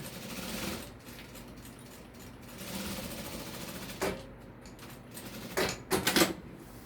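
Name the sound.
sewing machine stitching parallel seams on a makeup case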